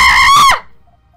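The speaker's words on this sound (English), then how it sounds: "Excessive screaming." A person lets out a loud, sustained scream lasting about half a second that cuts off abruptly, followed by near silence.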